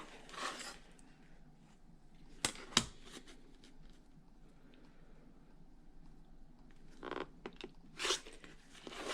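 Scissors or a rotary cutter slicing through quilting cotton, a few faint crisp cuts and snips scattered across a quiet room, with soft handling rustles in between.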